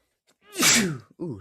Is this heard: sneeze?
yes